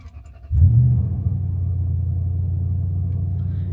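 A Toyota GX470 with a 2UZ V8 engine cranks and fires after a short quiet moment, a brief loud surge settling into a steady low rumble close by.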